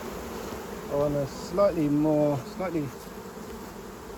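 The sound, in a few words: honey bees buzzing at beehives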